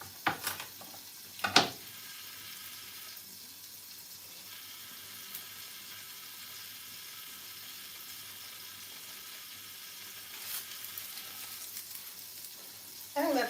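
Garlic frying in a pan for bok choy, a close, steady sizzle throughout with a few sharp clatters of a utensil stirring near the start and end.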